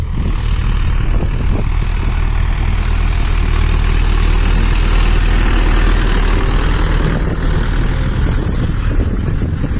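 A 4x4 tractor engine runs steadily at gentle, low throttle out on a farm field, a continuous loud low rumble that holds even for the whole stretch with no voices over it.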